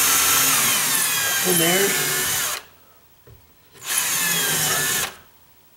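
A power drill drives a screw through a door frame into sheetrock, two loud whirring bursts of about two and a half seconds and one second with a quiet gap between, close up, with someone briefly speaking.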